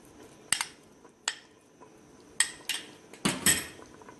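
Browned onions being added to mutton korma in a pot, heard as scattered metallic clinks and scrapes of a spoon against the pot, several sharp knocks separated by quiet gaps.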